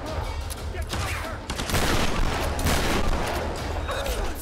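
Dense, sustained gunfire from the Tomb Raider video game fills the whole stretch, with rapid overlapping shots and heavy, loud bursts.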